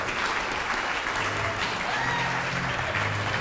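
A big audience at a comedy debate applauds the crossbenchers, a loud, continuous roar of clapping with crowd noise underneath that holds steady throughout.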